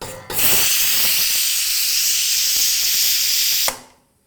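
A pressure cooker with Gujarati kadhi khichdi inside vents steam in one loud, sustained hiss that starts abruptly, holds steady for about three seconds, then cuts off and fades.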